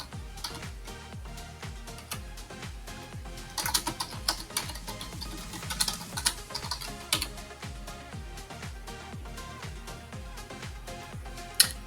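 Fast, steady clatter of keys being typed on a computer keyboard while a Linux install command is entered, close and crisp, with brief pauses and no talk.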